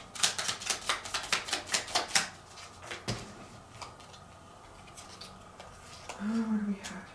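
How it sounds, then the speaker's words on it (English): Rapid run of crisp card snaps and riffles as tarot cards are shuffled and pulled from a new deck, close and dry, followed by softer handling and a brief voice. "I'm going to pull clarifying cards for your adjacent possibilities"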